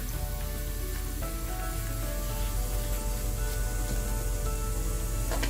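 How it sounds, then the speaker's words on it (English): Turmeric powder and a tomato, ginger and garlic paste hitting a hot pan for a beef shank korma, a dense, loud, steady sizzle and spatter that stays close and unbroken throughout, with no voices. "so we can add the turmeric powder and our tomato ginger garlic paste"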